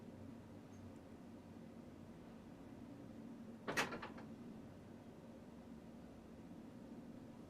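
A small cat thumps against a door once, a short, faint knock that rises briefly out of a quiet room's background hiss.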